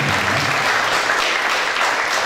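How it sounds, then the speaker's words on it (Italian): An audience at a Rome art exhibition applauds Ferdinando in a dense, even wash of clapping that holds at a steady level throughout without any voices. "E anche vorrei che faceste un applauso a Ferdinando."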